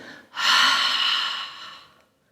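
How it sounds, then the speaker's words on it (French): One deep breath during a dynamic yoga session, a long, airy exhale that starts abruptly, holds steady, then fades to silence, close and clear with no talk. "Profonde inspire, profonde expire"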